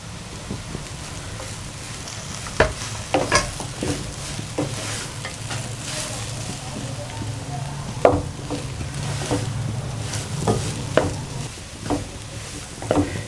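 Raisins and grated coconut roast in a pan for aloe vera halwa while a utensil stirs them, giving scattered scraping clicks over a steady low sizzle and faint background hiss.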